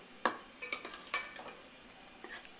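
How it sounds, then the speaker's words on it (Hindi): Spinach is stirred into moong dal in a pot, a few soft clinks and scrapes of a spoon against the vessel over a faint, quiet simmer, with no one speaking. "ये मैंने कुछ पालक डाल दिया है, इसको हम मिक्स कर लेंगे दाल में।"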